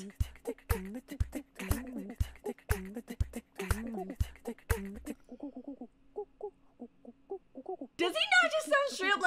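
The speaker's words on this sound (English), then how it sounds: "Does he not just sound straight up like a bird?" An Incredibox character sings a bird-like hooting line, a run of evenly spaced, close, clear hoots that sound much like an owl, then a pause and a brighter vocal burst at the end. No one speaks.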